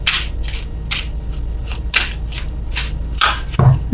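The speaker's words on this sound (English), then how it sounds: "as I warned, I'm shuffling extra slow" Tarot cards are shuffled slowly by hand, a series of soft riffling bursts at a steady pace, about ten in four seconds, close and clear with no talking.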